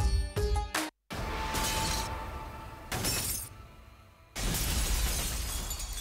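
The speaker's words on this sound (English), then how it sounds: "I held the hammer in my hand, faced the glass in front of me," In the video game Danganronpa V3, a thrown hammer smashes a pane of glass: a sharp burst and cutoff, then a long crashing shatter and tinkling debris in loud waves, with no talk.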